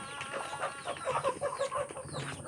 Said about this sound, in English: poultry birds here we call Barman